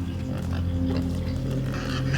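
A pig oinks in the Playdead video game Inside, a steady, low, grunting snort that holds evenly over a couple of seconds against a constant background hum, with no talking.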